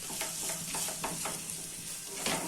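A spoon scrapes and stirs turmeric, coriander and other spices in a pan over a medium flame, with repeated rhythmic strokes over a steady frying hiss.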